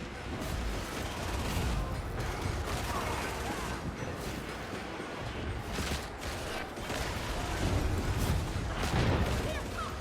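Plasma guns firing in Warhammer 40,000: Darktide, with veteran players blasting away: dense, continuous rumbling bursts of weapon fire and explosions fill the mix at a steady loud level, mingled with chaotic game noise and voices.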